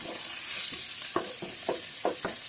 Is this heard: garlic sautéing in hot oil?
yes